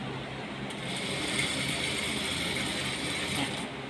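A sewing machine stitches a curtain hem with a 10 cm edge, giving a steady, fast mechanical whir and clatter that runs without a break, at moderate volume and with no talking.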